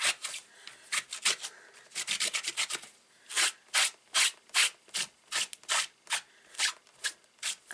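Repeated rhythmic scrubbing strokes as permanent ink is cleaned off a rubber stamp, fast and irregular at first, then steadier back-and-forth rubs, close and fairly loud with no talking.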